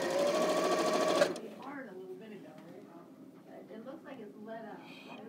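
A sewing machine runs fast and steady, stitching quilt block pieces, then stops abruptly after about a second; a person then talks over a quiet room.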